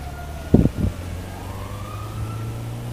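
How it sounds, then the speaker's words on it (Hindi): A police siren in Grand Theft Auto V wails faintly in the background, its tone slowly rising, after a couple of short dull thumps. "सायरन तो अभी बज रहा है यार"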